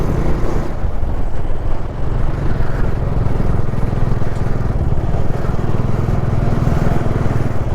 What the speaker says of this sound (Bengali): প্রচুর বাইকার এখন যাচ্ছে